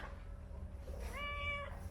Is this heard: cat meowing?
yes